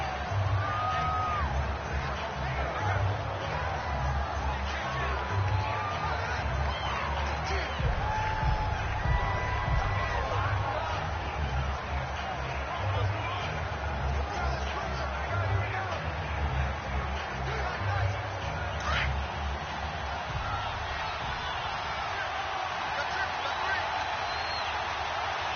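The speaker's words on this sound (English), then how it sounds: "And the home crowd applauding" A home crowd at a Houston Texans at Denver Broncos NFL football game applauds and cheers steadily, a broad wash of stadium noise under ongoing commentary.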